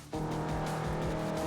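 Ford Fiesta racing in Forza Motorsport 4 starts up abruptly after a brief quiet moment, then holds a steady, buzzing engine drone with a tonal tire whine over it.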